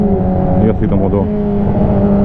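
A 2006 Yamaha R6 motorcycle engine pulls hard in second gear, a loud tonal whine that holds and climbs in pitch as it revs, with a rider's voice cutting in briefly over it.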